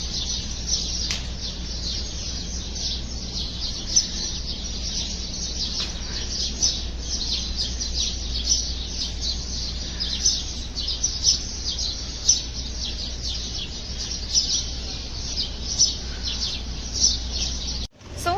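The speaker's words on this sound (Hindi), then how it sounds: "थोड़ा सा साउंड सुने, चिड़िया बहुत अच्छा बोलती है।" Birds chirp and tweet steadily at a hotel, a bright continuous chorus of small calls over a low constant background hum, with no talking.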